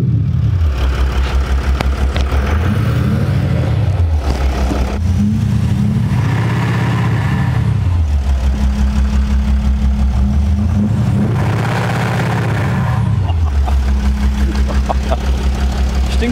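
A converted Mercedes-Benz G-Class 350 diesel with Active Sound revs loudly and close, its deep growl swelling and falling back in two distinct rev cycles over a steady idle.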